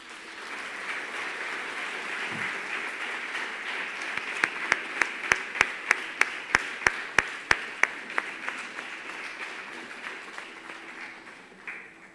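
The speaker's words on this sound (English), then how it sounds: "So, once again, a big round of applause." Applause from an audience after a dance performance at an arangetram, fairly quiet and steady, with a run of sharper, distinct claps standing out in the middle before fading.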